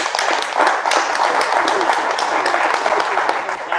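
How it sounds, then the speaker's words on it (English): Dense crowd applause at a brewers' award ceremony, a steady, loud wash of many hands clapping close by, sustained evenly throughout. "Big round of applause for these guys."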